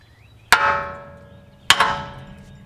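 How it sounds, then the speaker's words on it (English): Two sharp metallic hammer strikes hit a steel 4th Gen Mopar heavy-duty steering linkage on a 3rd Gen Dodge Ram, each ringing and decaying over about a second, close and loud with no talk. "we're gonna take a hammer and we're gonna strike straight down on this."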